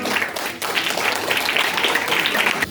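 An audience at a bhajan singing competition applauds in a sustained burst of dense clapping, briefly dipping then resuming steady and fairly close.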